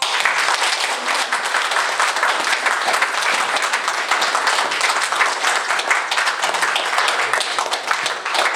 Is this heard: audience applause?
yes